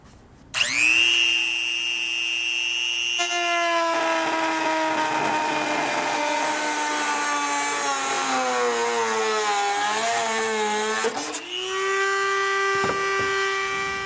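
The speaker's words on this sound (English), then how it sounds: "now I'm going to cut that out. I'm just going to use a Dremel tool. This is pretty thin plastic though." Dremel rotary tool whines at a high steady pitch as it cuts through thin plastic on a Jeep Wrangler base plate install, pitch sagging under load midway before recovering, then stopping.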